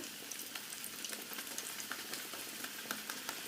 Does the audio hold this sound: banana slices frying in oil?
yes